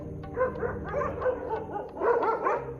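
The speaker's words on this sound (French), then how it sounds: "une meute de chiens errants est déjà là" A pack of stray dogs in a street confronting a hyena, yipping, barking and whimpering in overlapping bursts, several animals at mid distance, fairly loud and continuous with no speech.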